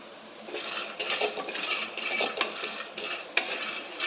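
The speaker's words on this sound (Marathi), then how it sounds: "आता एक वाटी शेंगदाणे घेतलेले आहे ते मी घालते आणि सर्व चांगलं खमंग शेंगदाणे खमंग भाजून घ्यायचे आहेत" Peanuts dry-roasting in a hot kadhai, stirred with a spatula that scrapes and clinks against the metal in irregular strokes, close and fairly quiet with a soft rattle of nuts between sharper taps.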